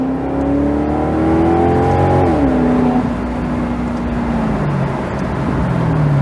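A Maserati GranTurismo engine revs up loud and close, climbing in pitch, holding briefly, then dropping away in a long falling tone, with no voices over it.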